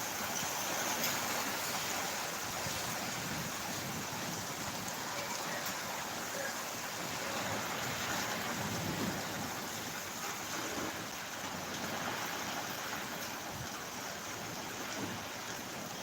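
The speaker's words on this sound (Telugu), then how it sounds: "ఫుల్ ఫుల్ పడుతుంది వర్షం" Heavy rain pours steadily in Tirupati, a dense continuous hiss of water that stays loud and even throughout with no voices.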